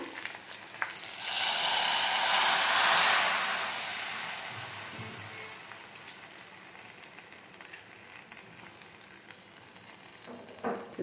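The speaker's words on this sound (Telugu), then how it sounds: "ఈ పోపు ఇప్పుడు ఇందులో వేద్దాము" A loud burst of sizzling as a hot oil tempering hits dal, swelling quickly then fading into a steady, softer crackle that continues to the end.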